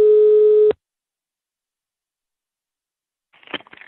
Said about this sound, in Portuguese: vou ligar agora pra Vânia